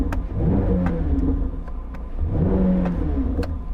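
A Ford GT's flat-plane-crank V8 is revved against its soft limiter, a loud, close engine roar held near a ceiling that surges and dips repeatedly without ever climbing higher.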